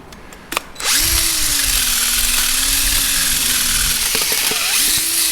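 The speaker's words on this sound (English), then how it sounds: "Take this little mini wire brush." A power-driven mini wire brush cleans the shaft holes on a corn head, starting with a few knocks and then running as a loud, steady high-pitched whine and scrubbing hiss that wavers slightly as it loads, very close.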